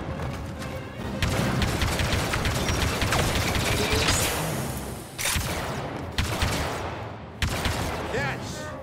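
Dense blaster gunfire and explosive booms fill a Star Wars Battlefront 2 Heroes vs Villains battle with Lando Calrissian, sustained loud volleys with sharp bursts and thuds, game voices talking underneath.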